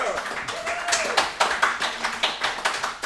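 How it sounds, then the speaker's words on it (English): Clapping for two boys' football players at a Liverpool playoff event, a quick run of claps from a small group, fairly close, with people's voices and cheering mixed in. "Please give them a round of applause."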